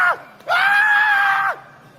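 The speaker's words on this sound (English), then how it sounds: "So he's screaming once again," A man screaming in a played-back video, a brief shriek followed by a longer, strained, high-pitched scream that holds loudly before cutting off.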